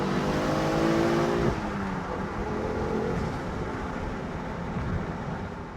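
A 2010 Ford Focus RS with custom exhaust accelerates hard in second gear from inside the cabin, engine note rising sharply, then the revs drop with a gear change into a steadier, quieter drone.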